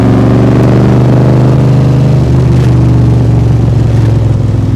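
Heard from the passenger seat, a 2020 Backdraft Cobra Iconic Edition's engine pulls under throttle with a loud, deep, throbbing exhaust drone, holding steady and close throughout.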